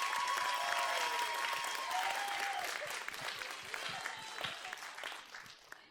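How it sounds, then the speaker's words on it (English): Sustained applause from an audience for graduates at a graduation ceremony, a dense even clatter of clapping that slowly thins toward the end. "please everyone, give a round of applause to the graduates"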